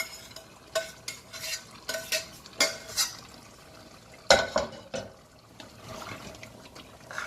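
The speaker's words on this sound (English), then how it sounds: "pour it in your pot" Liquid is poured into a cooking pot while making pork stew, with splashing and sloshing plus sharp metallic clinks of utensils and cookware in a series of close, distinct bursts.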